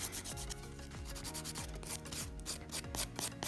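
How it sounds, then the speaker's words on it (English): A 180 grit nail file rasps gel top coat off fingernails in steady, quick back-and-forth strokes, close and fairly quiet, with no voices. "now I'm just gonna use this file, this 180 grit file, and I'm just gonna use it to file off all of that gel"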